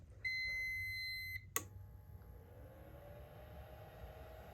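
A UPS backup power unit gives a steady electronic beep lasting about a second, followed by a sharp click and a faint lingering hum from its cooling fan.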